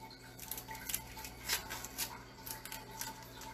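A knife slicing half an onion thinly in a home kitchen, heard as a series of soft, quiet cutting taps in a steady uneven rhythm.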